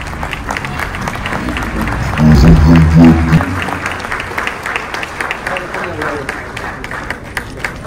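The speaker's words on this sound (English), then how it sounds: "A round of applause for our Grand Marshal" Audience applause at a New York gala honoring the Grand Marshal, a dense wash of clapping from a crowd, with a brief low swell of music or cheering in the middle.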